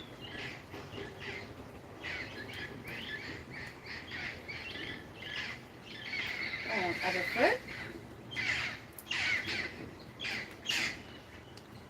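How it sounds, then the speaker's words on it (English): A flock of parrots squawks and chirps in scattered, overlapping bursts, louder toward the end, while a person talks briefly over the calls. "Hello, parrots. Oh, it's the whole flock today."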